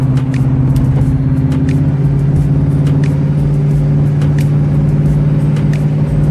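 A Dodge Charger's engine rumbles steadily close alongside, a deep, continuous idle-to-rev drone with a strong low hum held loud throughout and no talking.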